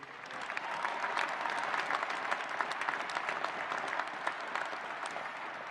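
An audience applauds at the 2019 United States Air Force Academy graduation ceremony, with dense, steady clapping from a large crowd that sounds somewhat distant and carries on evenly throughout.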